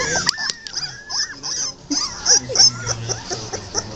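Three-week-old American Pitbull Terrier puppies whimper and yip close by, with a busy overlapping run of thin, high cries and short squeaks.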